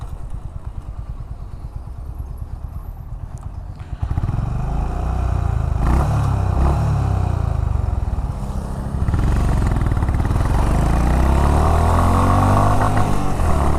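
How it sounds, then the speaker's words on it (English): A Honda H'ness CB350 motorcycle idles with a thumping beat, then its engine roars up hard through the gears, the pitch climbing and dropping at each shift, loud and close. "Let me give you a quick drag so that you will get to know about the power of this vehicle."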